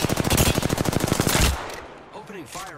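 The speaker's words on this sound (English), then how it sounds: "Opening fire on the enemy." Rapid machine gun fire in a battle royale video game, a loud, steady burst of closely spaced shots lasting about a second and a half, followed by quieter game sounds and a brief voice.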